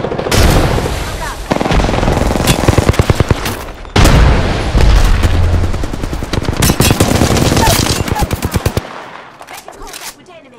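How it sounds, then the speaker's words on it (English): Rapid automatic gunfire rattles through a battle royale video game firefight, loud bursts and volleys of shots with short pauses, while a voice talks over the action. "Listen up, I'm getting shot at."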